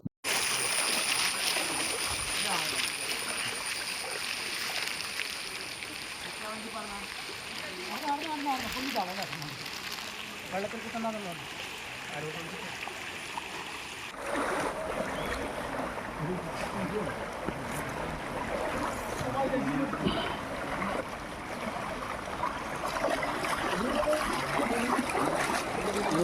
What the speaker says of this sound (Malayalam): മാഹി പാലം മുട്ടെ വെള്ളം ഉയർന്നു